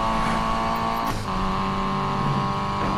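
A Nissan Silvia engine revs hard in the racing game Need for Speed Payback, holding a loud, steady tone with a brief drop around a gear shift before climbing again.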